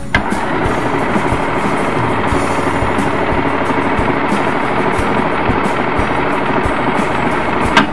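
A Janome sewing machine runs steadily with a fast, even mechanical clatter of rapid needle strokes and faint ticking, a close, continuous hum with no talking.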